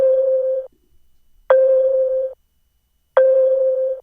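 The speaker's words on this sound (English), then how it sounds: "is this xylophone hit, and all I did was added some of this UAD AE compression." Three evenly spaced xylophone hits processed with compression and EQ that trims highs and lows, each a sustained, tonal, boxy strike about a second long separated by silence; loud, close and alone.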